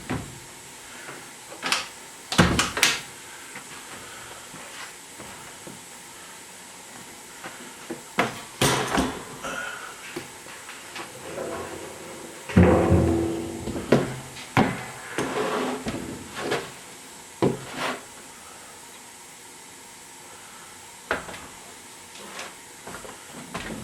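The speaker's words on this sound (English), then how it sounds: "Looks like I might have to close this door." Shop doors are pulled shut on a windy day, with a series of scattered thumps, clanks and rattles at irregular intervals over quiet room noise, fairly close, with no speech.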